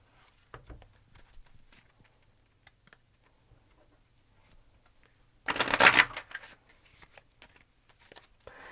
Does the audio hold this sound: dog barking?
no